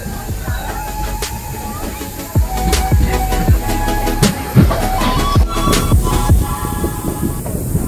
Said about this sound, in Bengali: ট্রেন এখন ঢুকছে নিউ জলপাইগুড়ি স্টেশন